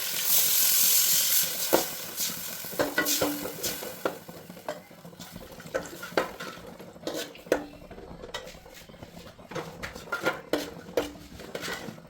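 Stirring and clattering in a hot pan of homemade pineapple pickle as vinegar goes in, with faint sizzling and hiss under repeated sharp metal scrapes and knocks of a spoon against the pan, close and moderately loud.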